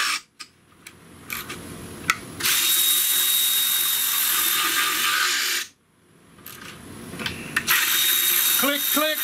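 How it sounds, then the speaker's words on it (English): A ratchet wrench tightening fuel injector bolts on a 2007 Chrysler Pacifica, heard as two long stretches of steady loud clicking broken by short pauses, with a faster run of ratchet clicks near the end. "let's go ahead and tighten the bolts up from the center out"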